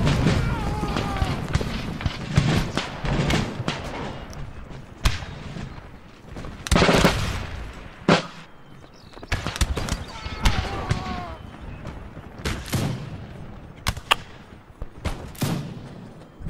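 Grenades exploding during a siege battle in Empire Total War, a series of sharp booms and cracks at irregular intervals over continuous battle noise, with voices calling out amid the fighting.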